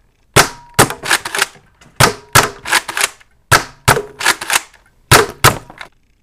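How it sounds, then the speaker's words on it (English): A Nerf Elite Rough Cut blaster fires foam darts in a rapid series of sharp, loud snapping pops, often in close pairs with brief pauses between, crisp and near with no talking. "Normally the darts will fire like this."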